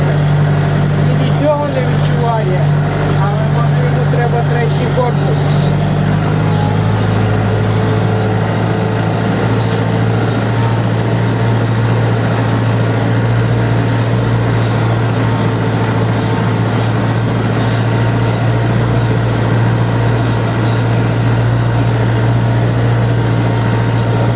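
A Scout 404C tractor's engine idles with a steady, low drone throughout, with a slight drop in pitch early on and some faint background noise over it.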